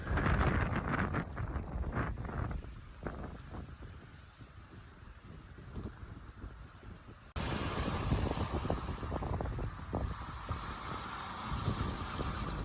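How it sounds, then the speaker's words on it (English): Sailboat running dead downwind in about 20 knots of wind with the screecher set, heard as steady wind rush and water noise around the hull, with louder gusty buffeting in the second half. "It was dead downwind, about 20 knots, and yeah, we were just floating along with the screecher out."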